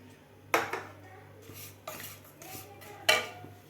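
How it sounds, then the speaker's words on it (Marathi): Solid jaggery dropped into an empty metal kadhai while making sesame-jaggery chikki, giving three sharp clinking knocks with quieter taps between, close and with no voices. "त्यामध्ये आता आपल्याला गूळ घालून घ्यायचा आहे।"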